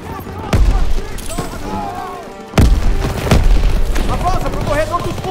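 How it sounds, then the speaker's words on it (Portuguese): Grenade blast and rifle fire in the World War II shooter Call of Duty WWII, a heavy boom cracking in mid-clip amid sharp, scattered gunshots and battle noise, with urgent shouted voices over the fighting. "Jogando granada!"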